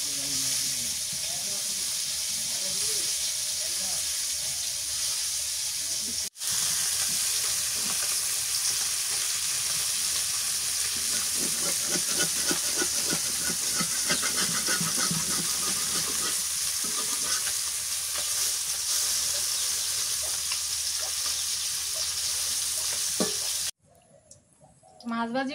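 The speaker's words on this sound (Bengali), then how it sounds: "মাছ ভাজি করলাম এই কড়াই সরষের তেল দিয়ে দিলাম" Koi fish frying in mustard oil in a wok, a steady close sizzle and crackle running almost without a break, with stirring scrapes in the middle and a brief cutoff near the end.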